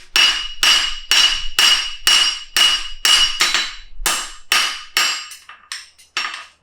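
A forging hammer flattens a hind preventer horseshoe on an anvil with about a dozen sharp, ringing metallic strikes in steady rhythm, close and loud, the blows turning lighter and more spaced toward the end.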